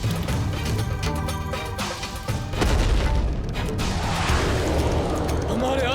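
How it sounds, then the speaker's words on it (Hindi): A mythological TV drama explosion effect, a loud booming blast that swells around the midpoint and rumbles on with crashing debris under a dense soundtrack. "ये कैसा विस्फोट हुआ वहां पर?"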